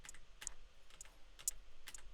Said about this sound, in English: you can use the arrow keys.